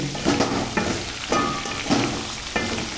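Bitter gourd fry roasts in a pan with a close, steady sizzle, broken by rhythmic scraping strokes of the spatula every half second or so.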